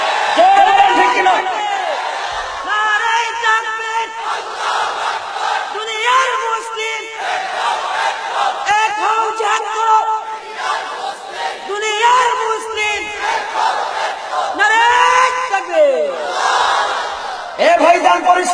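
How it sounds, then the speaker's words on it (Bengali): A large crowd roars the Islamic slogan Nara-e-Takbir, Allahu Akbar in loud, repeated shouted waves that carry on for the whole stretch, with voices rising and falling together. "মুসলমান আমরা যদি একবার নারায়ে তাকবীর আল্লাহু আকবারের ধ্বনি তুলি"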